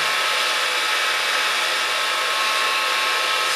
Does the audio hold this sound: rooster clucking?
no